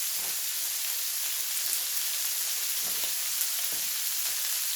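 Burgers frying in a pan with onion and garlic make a continuous soft sizzle and crackle. The sound is steady and close, with a few faint clinks and no talking.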